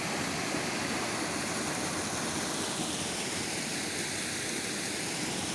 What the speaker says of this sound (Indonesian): air terjun kecil.